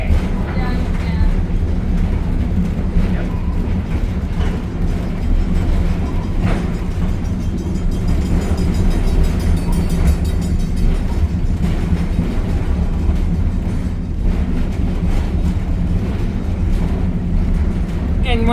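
Steady rumble and clatter from a steam locomotive train during a ride, with continuous low mechanical roar and rail noise throughout, loud and close, and people talking faintly underneath.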